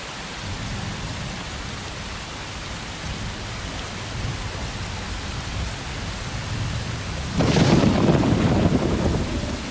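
Steady rain hisses throughout a thunderstorm in the video game Rule of Rose, with a low rumble of thunder swelling near the end, fairly loud and constant with no voices.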